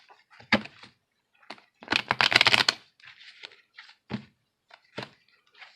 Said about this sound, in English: I'm going to shuffle and look at the general energy of both twins